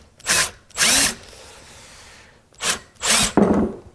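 A drill with a 0.230-inch bit bores into a carburetor in four short, close bursts of high whining spin, with a quiet pause between the pairs.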